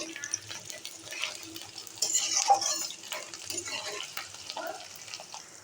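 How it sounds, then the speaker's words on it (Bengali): Whole spices, including bay leaf, cinnamon, green and black cardamom and cloves, are stirred in a pan with a soft sizzle and light scraping and clinking of a utensil, close and moderate in volume. "কয়েক টুকরো দারচিনি, ছোট এলাচ, বড় এলাচ এবং কয়েক টুকরো লবঙ্গ দিয়ে আরেকটু নাড়াচাড়া করব"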